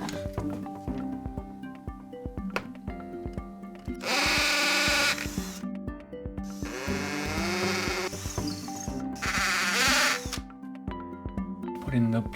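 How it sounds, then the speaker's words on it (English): A power drill bores holes for roller blind brackets in three loud whirring bursts, each lasting one to two seconds, with short pauses between them and background music running underneath. "So now it's time to drill the holes."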